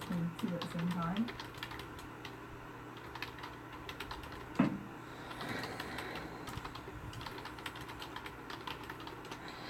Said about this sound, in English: I do type really fast